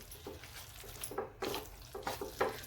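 Soybean snack batter being mixed after a small spoonful of turmeric goes in: close, wet squelching stir strokes in a quick uneven rhythm over a steady low background hum.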